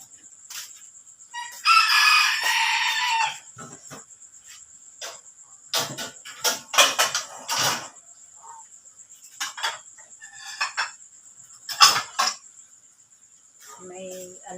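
A pet chicken kept by a house owner, heard at night as a rooster crows and fowl cluck in short bursts, with a steady cricket-like insect chirp running throughout and a few faint voices in between.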